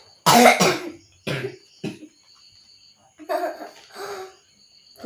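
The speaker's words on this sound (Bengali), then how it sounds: "নমুনা দেখো কাশির" A person coughs in two separate bursts, a strong harsh pair near the start and a weaker pair later, with short throat sounds between them. The coughs are close to the microphone, and there are quiet gaps between them.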